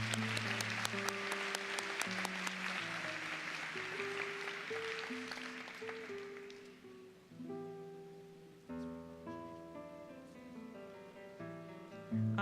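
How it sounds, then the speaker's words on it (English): Applause for liberal arts graduates at a 2018 college graduation ceremony, a light patter of clapping over music that fades by midway, leaving the music playing alone. "Let's applaud our liberal arts graduates one more time."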